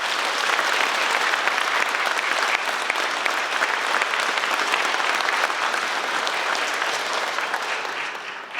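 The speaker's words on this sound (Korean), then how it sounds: "우리 주교님들의 함께함에 큰 박수 부탁드립니다" A congregation at a Catholic thanksgiving Mass celebrating a bishop's hundredth birthday gives loud, sustained applause for the attending bishops, a dense, continuous wash of clapping that tapers off slightly at the end.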